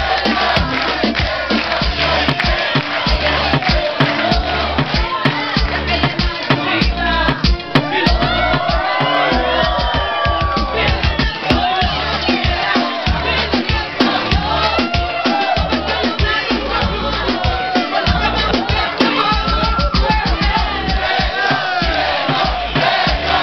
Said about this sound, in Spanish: Un aplauso para Carla, que pase adelante.